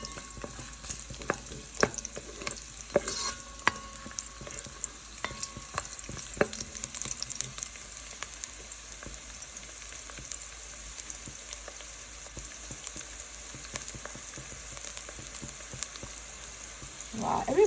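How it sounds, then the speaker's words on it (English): One small onion drops into sunflower oil heated over medium heat in a saucepan for Ghanaian jollof rice, giving a soft, steady hiss with a few light knocks early on. The sound stays fairly faint throughout. "So to this oil has been heating on medium heat. I'm adding 1 small onion to this."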